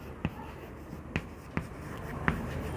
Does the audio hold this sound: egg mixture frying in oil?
no